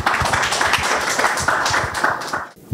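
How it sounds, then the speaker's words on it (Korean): An audience claps as a team presenter comes forward at a metaverse content developer training course: brisk, dense clapping from a small crowd, steady for a couple of seconds before cutting off. "박수 부탁드리겠습니다"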